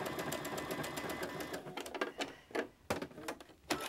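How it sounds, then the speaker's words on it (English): A sewing machine stitches fabric for a quilted basket handle, whirring in a fast continuous run before breaking into short, sharp bursts of stitching separated by brief pauses, close and clear with no talk. "And then the sewing machine, because it has this wonderful stitch and sews so beautifully"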